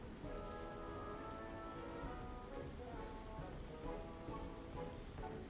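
Steady rain falls outside a store, a continuous hiss of drops holding at an even level for the whole stretch, with faint tonal sounds running through it.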